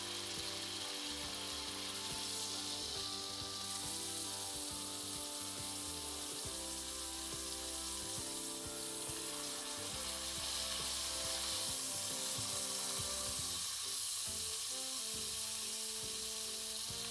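A steak for a steak sandwich sizzles in a pan, a continuous, fairly loud frying hiss that runs throughout with a steady tonal hum in the background and no talking.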